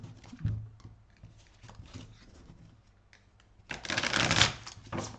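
Oracle cards being handled during a card reading, scattered soft taps and slides and then a dense, rustling shuffle burst near the end, close and with no one speaking.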